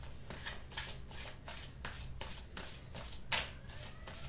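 A deck of cigano fortune-telling cards is shuffled by hand in a quiet room, roughly nine soft, rhythmic riffling bursts in quick succession with one slightly sharper snap near the end and no talking.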